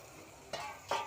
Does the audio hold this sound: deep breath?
no